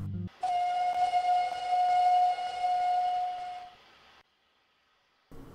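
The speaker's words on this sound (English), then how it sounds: "Did you recognize those whistles?" A steam railway engine's whistle sounding one long, steady, loud blast lasting about three seconds, then fading to silence.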